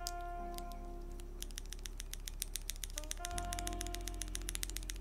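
Keys fitted with Joininkeys Prince switches and keycaps are typed on, giving a quick run of crisp, close clacks over a low steady hum, starting sparse and turning into a dense rapid patter.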